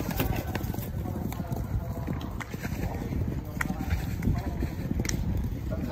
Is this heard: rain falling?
no